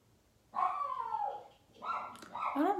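A dog yips and whines a few times in short bursts, fairly close, in an otherwise quiet room.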